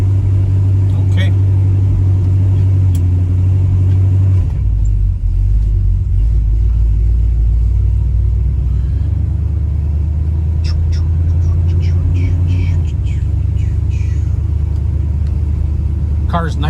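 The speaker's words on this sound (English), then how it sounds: "Car's nice and smooth. I mean, there's no, as you can hear, weird noises coming from the car when you hit a bump or anything." A 1972 Chevrolet Chevelle with a 350 engine on a test drive, with a loud, steady low engine rumble and road drone from inside the car. There is a brief shift partway through and some faint rattles and clicks.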